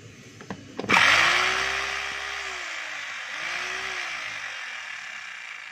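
A Stanley STHM5 5 kg jackhammer starts after a few clicks and runs steadily, a dense rattling roar with a wavering motor hum, fairly close and alone.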